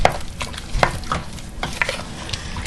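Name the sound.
stirring strawberry rhubarb jam in a pot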